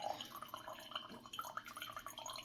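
Water poured onto coffee grounds sitting on an Ikape v3 metal and glass coffee scale, a faint, steady trickle with soft drips throughout.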